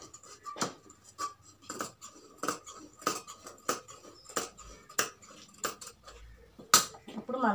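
Scissors snipping through Punjabi pant fabric, a series of sharp, crisp cuts repeating roughly every half second, close and fairly quiet with light clinks between strokes.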